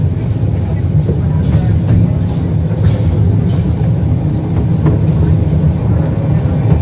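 Fairground kiddie train ride at a county fair rolling along at speed, a loud continuous rumble with faint rhythmic clacks, close up, while people talk over it.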